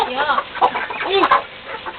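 A chicken clucks in short, repeated bursts close by, with a few sharp squawk-like notes in a rural yard.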